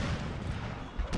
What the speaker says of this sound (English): Broadside.